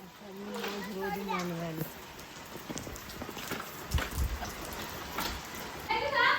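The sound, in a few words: heavy rain falling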